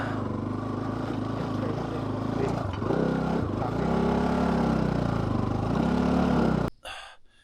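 A motorcycle engine idles steadily while the bike is parked, its low chugging drone rising and dipping in pitch, close and fairly loud, until the engine cuts off abruptly near the end.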